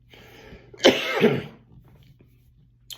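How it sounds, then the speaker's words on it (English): A single harsh, close cough from a man after smoking cannabis, a loud rough burst lasting about half a second, then quiet. "That was a cannabis cough, by the way."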